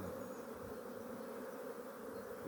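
Honey bees, drones among them, swarm around an opened multi-storey hive during an inspection, making a steady dense buzz that fills the whole stretch with no talk.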